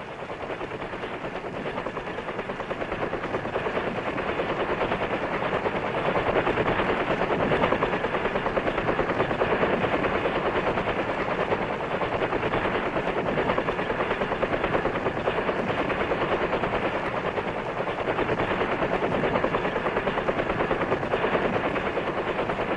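A military rescue helicopter flies low over jungle in wartime, its loud, steady rotor chop and turbine roar filling the whole stretch without pause.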